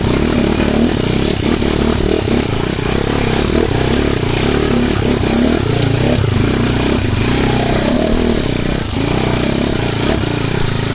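Enduro trail motorcycle climbing a rocky trail in a moto trail competition, the engine droning loudly and continuously with small rises in revs, mixed with clatter and scraping from stones under the tyres.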